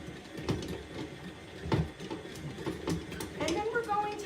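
A stand mixer fitted with a paddle attachment churns chunks of almond horn dough, giving off a steady mechanical whir with gear-like clicks and knocks, fairly close and running throughout.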